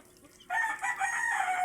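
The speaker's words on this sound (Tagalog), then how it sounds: "Ito yung mga manok nilang rel. Ayan, oh. Ayan, mga rare na manok." A rare-breed rooster crows loudly and close by, one sustained call that starts abruptly and holds steady to the end.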